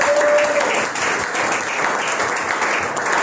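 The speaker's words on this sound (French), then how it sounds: "vous pouvez acclamer pour notre Dieu" A church congregation at a Sunday service in Paris claps and cheers for God, a dense, loud, sustained wash of applause filling the whole stretch without pause.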